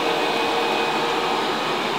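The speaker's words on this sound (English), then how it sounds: "So that's this robot vacuum on carpet." A VEREFA L11 Pro robot vacuum cleaning a carpet gives a steady, loud, close broadband whir and hiss of suction and motor that runs on without a break.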